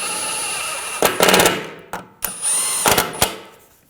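Power tool bursts tightening bolts on a rear sway bar link of a 2006-2009 Audi S4, several short loud whirring runs with brief pauses between them, close to the microphone and with no talk.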